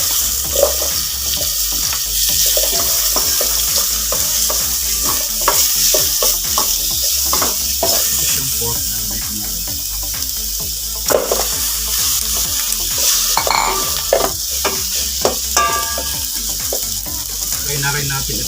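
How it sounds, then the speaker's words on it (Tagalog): Aromatics sizzle in hot oil in a pot while a utensil stirs and scrapes, with occasional clinks and a faint trickle of water. "Nagigisa ko dito yung mga rekado."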